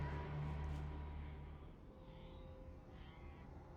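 Crows caw in the horror game Alan Wake Remastered, a few faint, harsh calls at a distance over a low rumbling game ambience with no speech.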